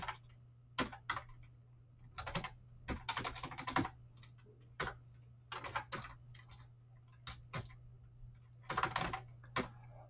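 Quiet clicks of someone typing code on a computer keyboard come in irregular bursts and single taps, close up, over a low steady hum.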